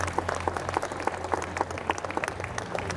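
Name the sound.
audience applause at Winnie the Pooh show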